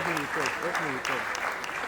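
Audience applause at a business talk continues as a steady wash of clapping, with someone speaking clearly over it throughout.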